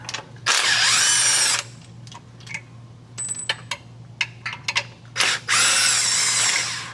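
A power tool spins out 13 millimeter bolts on a 2022 Ford F-350 during a transmission filter job: two long, loud close whirring bursts at the start and end, with clicks and small metallic taps between them.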